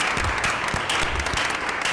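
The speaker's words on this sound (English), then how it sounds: "Even though it was only one applause, we still appreciate welcoming you to the district." One person claps steadily at a school board meeting, each slap distinct and fairly close against a constant background hum of the room.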